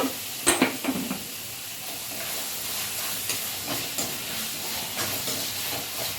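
Tomatoes sauté in a pan for a crab curry, giving a steady soft sizzle and hiss with a few stirring clatters near the start.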